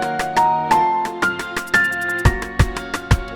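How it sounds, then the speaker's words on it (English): Piano solo sent through an Arturia Delay Brigade delay, a run of close, bright plucked notes with echoing repeats, joined near the end by a few thumping low beats, no talk. "I have a piano solo being sent to this delay brigade from Arturia, and it sounds like this."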